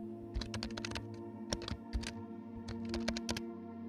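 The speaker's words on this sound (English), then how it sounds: "I should probably type that word in just in case" Keys clatter on a computer keyboard as a single word is typed, with quick irregular clicks in short bursts over a steady background hum.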